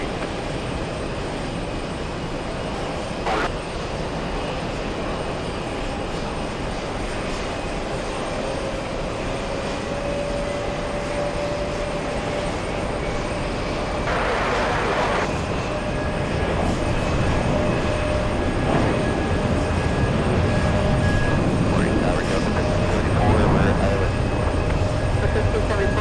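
A JetBlue jet on final approach to land at JFK gives a continuous rumbling engine roar that swells slightly toward the end, with faint radio chatter beneath it.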